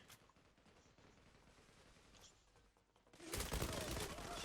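Gunfire from the online shooter Zula, a dense rattling burst of automatic fire that swells loudly near the end after quieter background game noise and distant shots.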